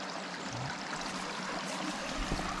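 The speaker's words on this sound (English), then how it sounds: "You want to go on the creek, Liz?" A creek runs with a steady, moderately faint rush and trickle of flowing water outdoors, continuous throughout with no talking.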